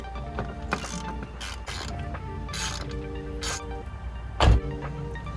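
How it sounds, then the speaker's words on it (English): A ratchet clicks in quick bursts while metal parts clank and rattle up close, with a heavier thud near the end, as a bolt is removed from a car door. "I removed the bolt from the door and reinstall it with the strap"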